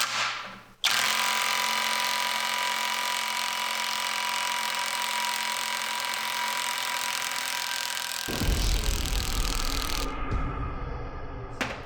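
A DeWalt impact wrench works on semi truck lug nuts, starting with a sharp burst and then a long, loud, sustained whirring hammer that rattles into heavier impacts before cutting off abruptly near the end.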